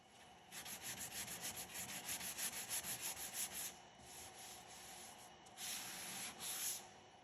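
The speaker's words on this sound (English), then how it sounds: "Give them some a little bit more sanding." Quick back-and-forth strokes of hand sanding rasp softly across a hardwood floor with an oil finish, a steady rhythmic scrubbing that pauses briefly and then resumes in a shorter burst, quiet and close.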